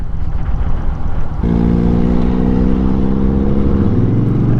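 A Honda Fury cruiser motorcycle engine drones steadily up close, with a low rumbling tone that rises in pitch partway through as the bike slows and leans into a tight turn.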